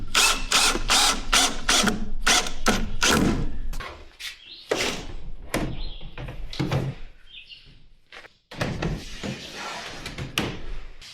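A power drill driving the supplied screws to fix a garage organizer into a wall, with rapid loud ratcheting bursts in quick succession, a pause, then further short whirring and clattering bursts close by.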